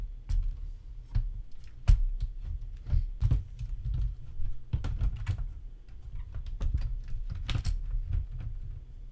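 Commodore Amiga A1200 keyboard being fitted back into its case, a steady run of plastic clicks, taps and light knocks close by, irregular and fairly busy throughout with no talking.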